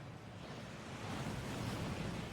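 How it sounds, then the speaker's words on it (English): A waterfall in the video game Hogwarts Legacy, a continuous broad rushing roar of falling water, steady and slightly swelling, heard on its own without voices. "That waterfall washes away all enchantments."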